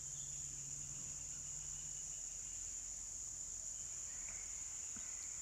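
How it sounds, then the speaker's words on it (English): A steady, high-pitched chorus of many crickets trilling continuously at night, with a faint low hum underneath. "They sound like a lot of crickets"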